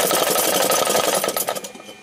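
An electric motor spins a wobbling magnet held up by repulsion in a levitation demonstration, a loud buzzing whir with rapid rattling pulses that slows and fades toward the end, with no speech.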